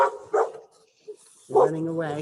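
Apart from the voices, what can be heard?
dog barking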